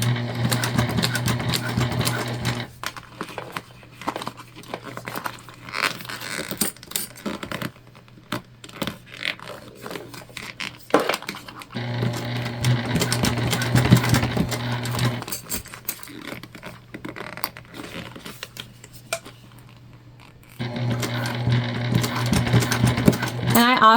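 Sewing machine stitching clear and jelly vinyl for a Tiny Cata, running in three steady bursts of a few seconds each, with quieter handling sounds between them.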